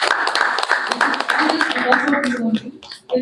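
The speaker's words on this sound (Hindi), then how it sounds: "मैं भी चाहूँगी कि मेरी तरफ से भी आप लोग अपने लिए एक जोरदार तालियां दें।" An audience at a youth achievement awards event claps together in a loud, dense burst, with talking mixed in over the clapping before it thins out and trails off near the end.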